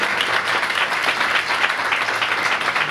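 A congregation at a Sunday church meeting gives loud, sustained applause, a dense and even wash of many hands clapping together for about three seconds.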